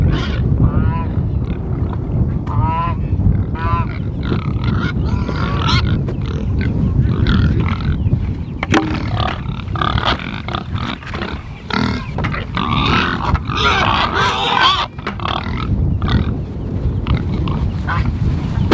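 Pigs on a family homestead grunt and snort repeatedly up close, loud rough bursts mixed with shuffling and background noise, with people talking intermittently.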